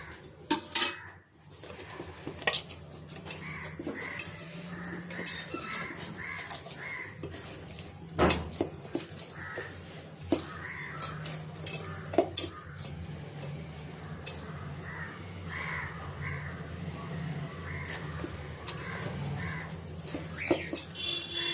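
A utensil scraping and clinking in a pan while gulab jamun batter with a little oil is mixed, with repeated metallic taps and scrapes throughout and faint crow caws in the background.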